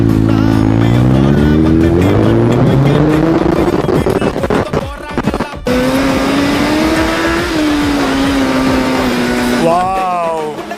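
Suzuki Hayabusa motorcycle revs hard and accelerates, engine pitch climbing in long rising sweeps, then dropping and surging again; loud and close throughout, with voices talking over the engine.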